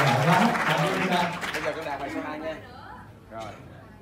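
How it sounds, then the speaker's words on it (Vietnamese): An audience claps for a young girl pianist at a year-end evening performance, a burst of applause mixed with someone talking over it, fading out after a few seconds. "mọi người vỗ tay cho Barbie đã thẹn rồi"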